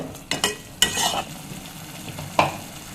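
A utensil stirs and scrapes through a thick masala paste in a hot frying pan, with a few sharp clinks against the metal over a steady sizzle.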